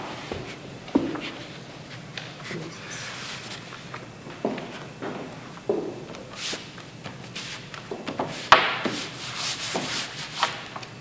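Excess paste is blotted off laminated paper during a paper conservation task, heard as soft, close rubbing and dabbing strokes in irregular bursts with occasional light knocks and no talking.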